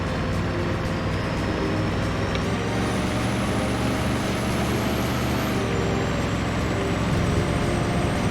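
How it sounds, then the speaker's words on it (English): A truck engine in the 18 Wheels of Steel Haulin' truck-driving video game drones steadily and loudly, with a continuous low rumble and a high whine that shifts pitch once, without pause. "This truck does have a nice sound."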